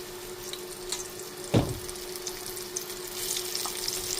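Chicken wings dropped one by one into hot oil give a sudden near splash at the start, and a steady hiss of frying follows with no talking.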